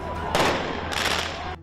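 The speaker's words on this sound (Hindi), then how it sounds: "कुछ ने पुलिस पर पटाखे तक छोड़ दिए।" During a street protest against police, firecrackers go off in two sharp, crackling bursts, loud and close over a noisy crowd background.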